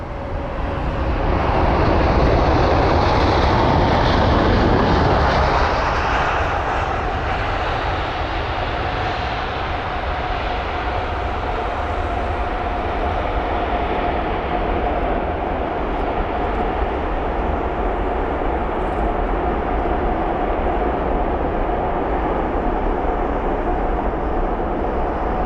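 An Emirates Airbus A380 arriving from Dubai lands at London Heathrow, a loud steady jet roar that swells as it touches down and then holds as a broad sustained rumble with no talking.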